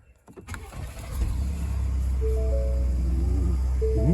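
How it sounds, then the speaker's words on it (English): A 2020 Ford F-150 XLT Lariat 4x4 FX4 with the 3.5 EcoBoost engine is started by push button, a short whir and catch followed by a steady, loud idle hum, with faint electric motor whines near the end. "Let's get in and crank her up."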